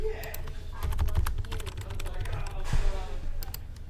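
A computer keyboard clatters in quick, close, moderately loud keystroke runs while a project is saved and named, with a voice talking over part of the typing.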